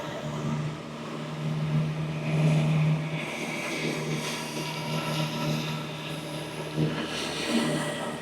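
A Fooco 15-inch pressure washer surface cleaner runs with a steady, loud motor drone and rushing spray noise that holds continuously with slight swells.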